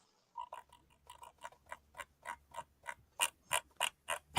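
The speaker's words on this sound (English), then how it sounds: "I would love to not hear my mouse click when I click this mouse or scroll" A computer mouse clicks and its scroll wheel ratchets in quick, regular ticks, close and fairly faint. The clicking grows louder and more insistent toward the end.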